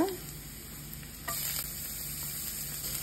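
Onion and ginger fry in a pan with a steady close sizzle and a few stirring scrapes, no one speaking.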